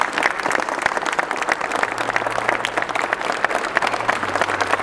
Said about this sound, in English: round of applause for our man, lads